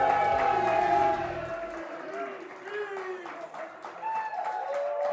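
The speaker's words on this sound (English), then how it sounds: "Man, we got a lively crowd here." A lively studio crowd applauds and cheers in a burst that fades after a second or two, leaving a thinner patter of claps and whoops beneath a speaking voice.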